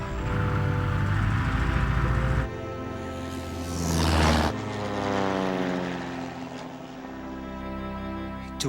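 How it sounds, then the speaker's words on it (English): A propeller plane's engine runs steadily after starting, a loud sustained drone with a layered harmonic hum that shifts in pitch partway through, with no voices over it. "the plane started."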